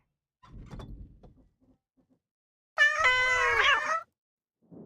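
A cat meows in the video game Wartales, a single drawn-out, harmonic meow lasting about a second, loud and close, following some soft rustling and thuds.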